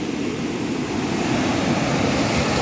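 Large ocean waves break at Rushikonda beach, a loud, continuous roar of surf mixed with wind buffeting the microphone, with no voices heard.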